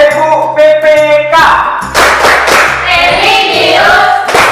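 Schoolchildren perform the PPK clapping chant, with a burst of chanting voices followed by rapid, loud rhythmic hand claps in patterned groups, close and lively.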